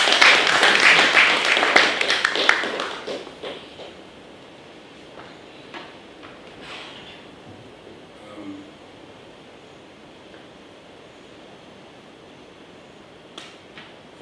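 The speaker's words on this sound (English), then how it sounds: "Let's give him a round of applause." An audience claps for a speaker in a loud burst at the start. The applause fades within a few seconds into a quiet room with scattered small knocks.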